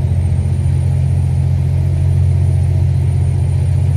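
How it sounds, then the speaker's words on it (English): A truck engine in American Truck Simulator drones with a loud, continuous low rumble that holds steady and close, with no clear changes in pitch. "yeah, I love the Jake brake sound."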